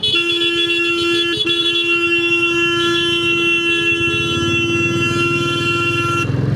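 A motorbike horn blares nearly nonstop for about six seconds in busy street traffic. It is loud and close, with the rumble of road vehicles underneath.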